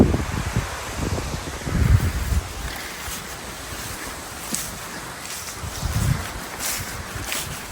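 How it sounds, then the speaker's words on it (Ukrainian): Gusty wind sweeps through a Carpathian forest on a wet autumn day, a broad continuous rush that swells in stronger gusts around the start and again near the end. "Такими поривами вітер дує."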